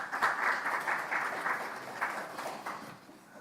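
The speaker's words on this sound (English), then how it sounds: "Let's give him the round of applause." Audience applause at a men's symposium in KwaZulu-Natal, a short burst of moderate clapping that tapers off over a few seconds.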